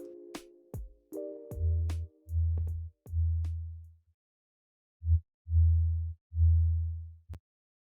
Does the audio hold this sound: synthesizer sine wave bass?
yes